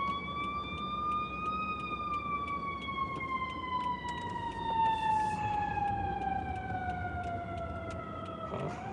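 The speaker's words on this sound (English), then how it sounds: "Ambulance act like they didn't know where they was going." An ambulance siren on a city street in Chicago wails in a long sweeping tone that slowly falls in pitch as it passes, loud and steady with traffic rumble beneath.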